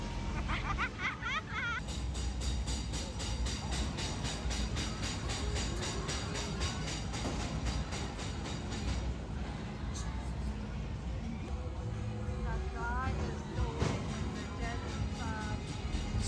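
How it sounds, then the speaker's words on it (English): A continuous rumbling ghost train ride at a Christmas funfair in Scotland, with rattling carriage noise, eerie music and distant crowd chatter and laughter blending throughout, steady and fairly loud. "So this train, it goes all the way up and it takes you inside"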